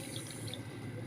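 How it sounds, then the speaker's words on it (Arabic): A cup of water is poured out for kunafa sugar syrup in a home kitchen, a brief, soft trickling splash heard alone and fairly quiet. "هنحط بقى ايه كوباية واحدة مية، عليهم كوباية واحدة مية"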